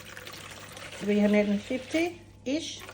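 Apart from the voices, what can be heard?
water poured into container for sourdough dough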